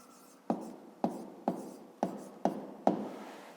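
Handwriting on paper during a fifth-grade math exercise: six evenly spaced pen strokes, each a sharp tap followed by a brief scratchy drag, close and fairly quiet.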